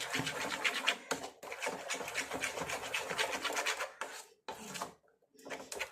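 Snack dough being mixed with water by hand for a variety of bonda, a close, steady scraping and rubbing that runs continuously with a few short pauses, no voices over it.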